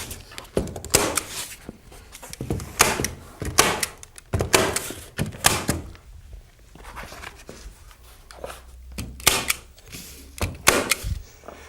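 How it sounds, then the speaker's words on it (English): A staple gun fastens house wrap paper to a wall, firing a series of sharp, loud snaps in irregular bursts, some close together, with brief quieter gaps between. "Again, just using some common staples to get it in place."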